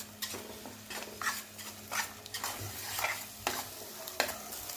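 Masala paste roasts in oil while a spoon stirs it, producing repeated scraping strokes against the pan in an uneven rhythm over a soft, steady sizzle.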